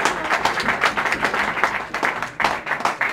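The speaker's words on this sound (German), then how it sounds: "Und natürlich auch einen Applaus für unseren Trainer, der bislang so gute Arbeit geleistet hat." A room at an ice hockey press conference after EHC Bayreuth versus VER Selb breaks into applause, a dense, continuous patter of many hands clapping throughout, fairly close and without speech over it.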